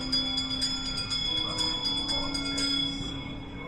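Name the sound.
bell ringing in Haunted Mansion ride audio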